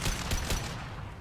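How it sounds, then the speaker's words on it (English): A concussive shot fired in Mass Effect 2 gives a quick burst of booming, gunfire-like blasts, two or three dull thumps in rapid succession that fade into a softer rumbling tail, with no talking. "Firing concussive shot."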